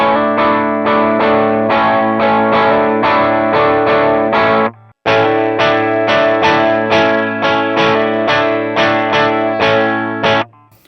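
Electric guitar run through Line 6 Helix 3.50 cab models, a loud, distorted chorus-and-effects tone strummed in steady repeated chords with a brief break near the middle, played alone without talk.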